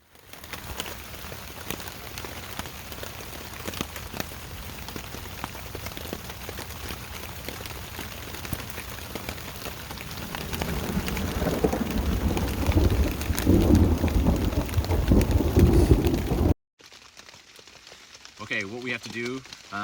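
Steady rain falls during a thunderstorm at a canoe campsite on the Mississippi River, a dense hiss that swells louder toward the end before a brief break, with a few faint voices underneath.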